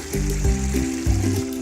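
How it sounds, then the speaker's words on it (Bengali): Lukewarm water poured into a pot of browned beef vona curry, a close, gurgling pour whose pitch rises in short bursts as the pot fills. "এর মধ্যে আমি হালকা কুসুম গরম পানি দিয়ে দিব,"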